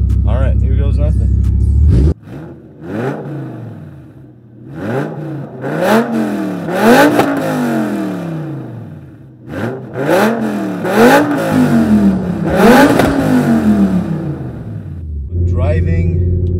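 A 2006 BMW M5 E60 with a tuned V10 revs hard toward 9,000 RPM in repeated climbing and falling sweeps, loud and close, the rising wail of each rev followed by a drop back to idle.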